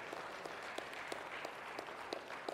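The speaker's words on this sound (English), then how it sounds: "Can you give the Lord a hand clap of praise?" A church congregation claps their hands in praise, a soft, distant spread of clapping with a few sharper, regular beats cutting through, as if some keep time.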